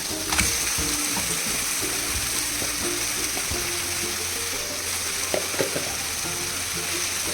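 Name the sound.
chicken added to a pan and frying for biryani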